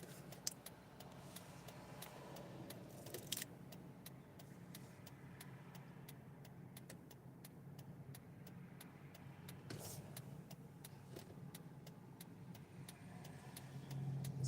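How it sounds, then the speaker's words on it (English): Steady road traffic on a small street in Gary, Indiana, with cars rolling past as a continuous low rumble and hiss throughout, slightly swelling near the end, with no talking. "Let these cars pass by"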